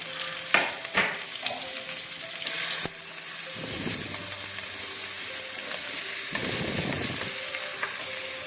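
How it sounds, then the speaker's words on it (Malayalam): Garlic, onion and curry leaves frying in hot coconut oil in a pan, giving a loud, continuous sizzle with occasional spatters, pops and the clink of a stirring spoon, with no talking. "ചട്ടിക്കകത്ത് വെളിച്ചെണ്ണ ചേർത്ത് കൊടുക്കാം. വെളുത്തുള്ളി, ഉള്ളി, കറിവേപ്പിലയും കൂടെ നമുക്ക് ആദ്യം ചേർത്ത് കൊടുക്കാം."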